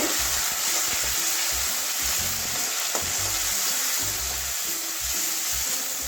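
Chopped tomato goes into hot oil with already fried onion and garlic in a pan, giving a steady close sizzle and crackle with occasional stirring scrapes throughout, no talking.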